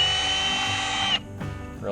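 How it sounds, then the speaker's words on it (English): A power drill drilling out a hole for an insert on a MEP 802A military generator whines steadily at high pitch for about a second, then cuts off, followed by brief clattering. "first thing you have to do is drill the hole out to the right size for the insert"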